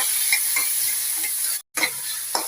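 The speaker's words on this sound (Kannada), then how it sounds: "ಅದನ್ನು ಕೂಡ ಹಾಕಿ ಅದೊಂಥರ ಚೆನ್ನಾಗಿ ಮಿಕ್ಸ್ ಮಾಡಿ." Soaked moong dal tumbled into a hot tempering for banana stem stir-fry, giving a close, steady oil sizzle with a few scraping stirs and a brief drop to near silence midway.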